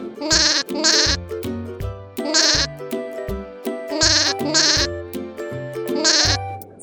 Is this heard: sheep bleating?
yes